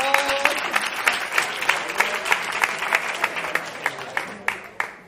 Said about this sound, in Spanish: Un aplauso a Dani Rovira.